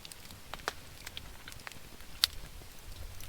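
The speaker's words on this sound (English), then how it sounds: "Still, I got my fire going here." A campfire at a winter campsite under a tarp, with rain falling on and off, gives sparse, quiet crackles and a few sharp pops over a soft, steady hiss.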